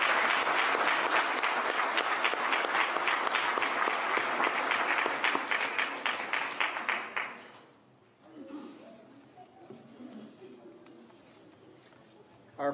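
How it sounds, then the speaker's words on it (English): Loud, dense applause from the crowd at a high school athletic hall of fame ceremony, steady for about seven seconds before it fades out, followed by quieter room noise and faint voices. "One more round of applause for this great team."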